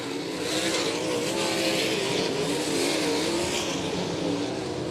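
Sprint race cars at Crystal Motor Speedway in a Great Lakes Super Sprints event, engines roaring and wavering as the pack swings through turns three and four, a dense sustained howl with no voices.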